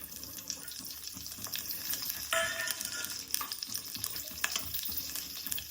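Mustard seeds and cumin sizzle in hot oil while a tambuli is being cooked, giving a steady, faint crackling fry with stirring scrapes and a few sharper pops throughout.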